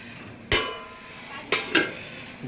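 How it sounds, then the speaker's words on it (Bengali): Spices and meat are sautéed over a low flame, with three distinct scrapes of a spatula against the pan and a faint sizzle between them. "লো ফ্লেমে মশলা কষলে কতটা সুন্দর"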